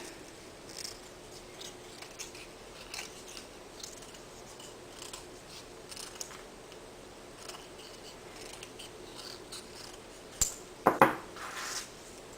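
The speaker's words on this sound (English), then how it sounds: "I trim off any of the extra paper" Scissors trimming excess paper off a washer necklace, with soft faint snips and rustles through a quiet room and a cluster of sharper, louder cuts near the end.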